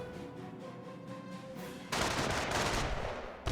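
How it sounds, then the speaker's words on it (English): A BAR rifleman firing in the video game Company of Heroes, a loud, dense burst of rapid gunfire that suddenly replaces a quieter tonal backdrop and runs on for over a second. "Pioneers taking a bit of fire there from the bar rifleman."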